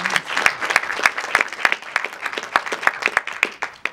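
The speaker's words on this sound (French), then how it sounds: "oui, vous pouvez les applaudir." Audience applause at the closing-night ceremony of an international film festival, a dense wash of clapping with sharp individual claps standing out, steady and fairly close throughout.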